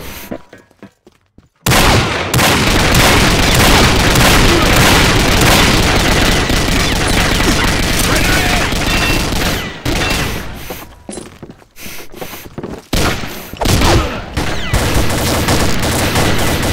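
Gunfire and explosions from a shooter video game with random weapons, including an RPG rocket blast, loud and dense after a short quiet opening, with bursts and a few brief dips continuing throughout.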